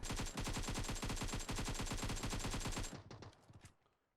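Rapid automatic gunfire from the mobile battle royale game PUBG Mobile rattles in a loud, continuous burst for about three seconds, then trails off into a few fading echoes.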